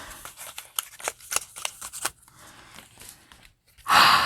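A hole punch goes through paper cards in a quick run of sharp, crisp clicks and crunches, followed by a pause and then a sudden louder burst of handling noise at the end.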